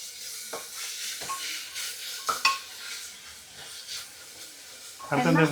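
Curry leaves sizzle with onions in hot oil, a steady hiss close by, with scraping stirs and a burst of crackling near the end as the leaves hit the pan.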